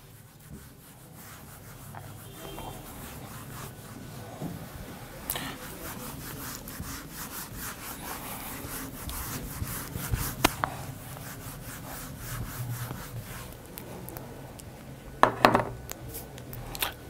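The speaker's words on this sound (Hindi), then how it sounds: "मैं इसको रब कर रहा हूं" An eraser rubs out the border line of an engineering drawing on paper, making repeated close scrubbing strokes that grow busier toward the end, with a few sharper taps.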